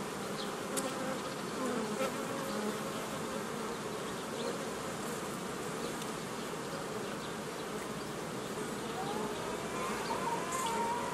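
Honey bees swarm around an open hive in a hobby apiary, making a dense, steady buzz that fills the whole stretch at even loudness, with no voices over it.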